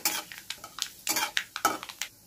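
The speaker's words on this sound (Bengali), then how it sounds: "শুকনো লঙ্কা ফোড়ন, তেজপাতা ফোড়ন, কালো জিরে ফোড়ন, একটুখানি এটাকে ভেজে নেব।" Dry chillies, bay leaf and black cumin tempering in hot oil in a pan for kochu shak, with a spoon stirring and scraping in short clattering strokes over a light sizzle.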